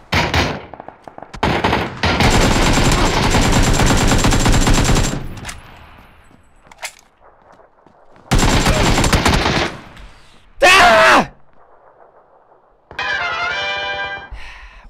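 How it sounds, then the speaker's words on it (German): Automatic gunfire in a video game, with long rattling bursts of rapid shots separated by quiet gaps, loud and close, then a short sharp burst and a final metallic volley. "Okay, da wird wild geschossen"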